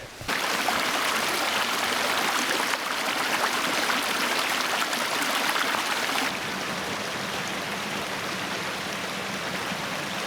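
A creek in Allegheny National Forest flows with a steady, broad rushing and babbling of water, nearby and continuous, with no voices.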